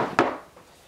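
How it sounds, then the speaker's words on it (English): A single sharp knock as a hammer drives a steel T-nut into a wooden swivel base, brief and fairly close, followed by a quick fade. "The T-nut is just simply installed with a hammer."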